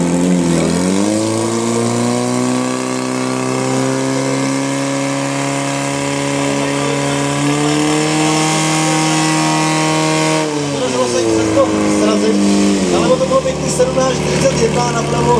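A fire pump engine roars during a women's firefighting competition run by SDH Letohrad Červená at Dubenec. It gives a strong, steady, harmonic drone that dips and shifts pitch partway through, with crowd noise mixed in.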